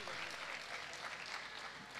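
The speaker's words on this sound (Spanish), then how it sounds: "Aplaudidle más, aplausos, que es español y tecnología made in Spain." An audience at a humanoid robot event applauds continuously, a soft and somewhat distant patter of clapping with possible voices mixed in.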